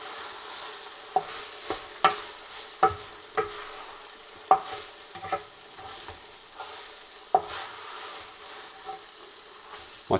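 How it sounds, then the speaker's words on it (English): A spoon stirs beef stew with onions in a Ninja slow cooker, a soft hiss underneath a string of about a dozen sharp scraping and clinking strokes at an uneven pace. "And we'll give it all a jolly good stir."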